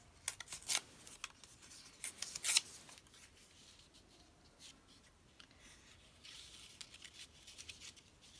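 Green paper is torn by hand while decorating a Christmas envelope, heard as close, quiet crisp rips and rustles in short bursts, with soft handling noises between them in a still room.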